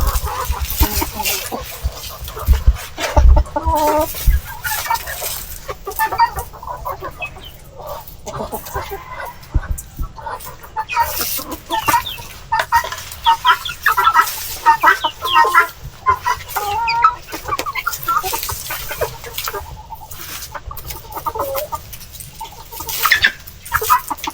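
Free-range native chickens on a farm cluck and chatter continuously and fairly close, some calls overlapping, with a busy mix of bird voices throughout.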